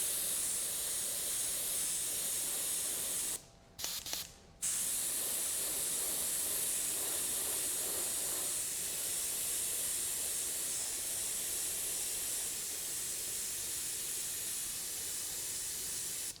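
Airbrush hissing paint onto metal rivets to darken and weather them, a steady close airy spray that cuts off briefly twice near the start before resuming, continuous and fairly quiet, no voices.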